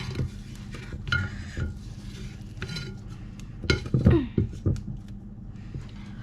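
Cupcake batter being stirred and mixed with a spatula in a bowl, giving irregular scraping and knocking strokes that grow louder and busier midway, with faint clinks of utensils against the bowl.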